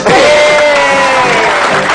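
Loud, dense applause and cheering from a studio audience on an Indonesian television talk show, sustained evenly for the full stretch with a tonal ring running underneath.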